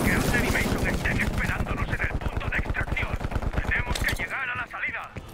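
AK-47 fire in Call of Duty Cold War, a fast steady stream of close, punchy automatic shots that keeps up for about four seconds before cutting off, followed by a short trailing clatter.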